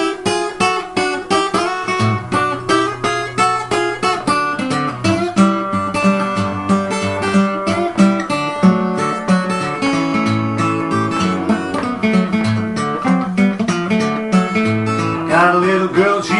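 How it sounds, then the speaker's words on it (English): Acoustic guitar plays a ragtime-style blues turnaround in C, a busy fingerpicked pattern with alternating bass and syncopated treble notes, steady and close for the whole stretch, no voice. "Today I'm going to talk about a turnaround in C."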